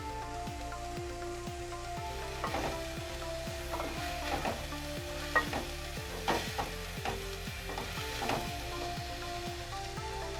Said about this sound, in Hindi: इसको 2-3 मिनट तक आपको मिक्स करना है